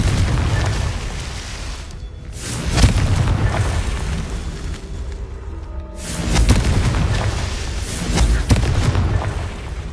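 Repeated deep booming blasts from the Confringo fire spell in the video game Hogwarts Legacy, several loud explosions rolling over a rumbling low-end bed with no talk.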